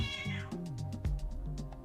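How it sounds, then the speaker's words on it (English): A pet cat meows loudly and close by, a single drawn-out call that bends in pitch, with no voices alongside. "Yeah, and that was my cat."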